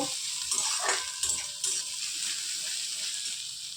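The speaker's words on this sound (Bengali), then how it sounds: "পেঁয়াজটাকে ভালো করে ভেজে নেব।" Onions frying in oil in a kadai with dried chillies give a bright, steady sizzle, with a few louder crackles and stirring scrapes early on before settling into an even hiss.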